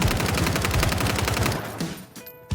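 A submachine gun in the Warzone video game fires a rapid, steady full-auto burst for about a second and a half, loud and close, then stops, followed by a few faint clicks and one sharp thud.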